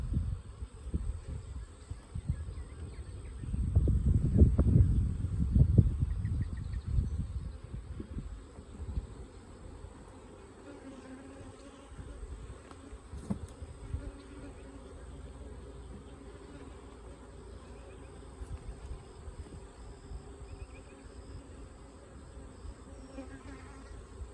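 Honey bees buzz around a hive frame during nuc installation, a dense close swarm hum swelling loudly early on, then settling into a softer steady drone with faint handling knocks.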